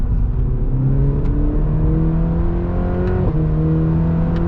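A 2021 Cadillac CT4-V's turbocharged engine accelerates with a rising drone, climbing in pitch through gears with a quick shift dip in the middle, heard from inside the car and loud throughout.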